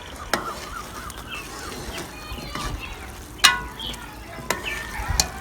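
Ingredients for sweet mutanjan rice cook in a pot with a soft sizzle, while a spoon scrapes and clanks in sharp, irregular knocks against the metal.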